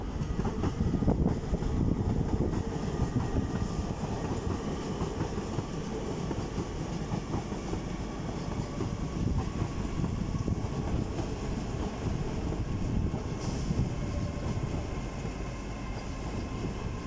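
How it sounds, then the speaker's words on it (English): An LNER Class 801 train, unit 801229, pulls out of Darlington station bound for Edinburgh Waverley. A steady, fairly loud rumble with wheel clatter and a faint high whine carries throughout, with no voices. "Is LNER service off to Edinburgh Waverley from London King's Cross with 801229."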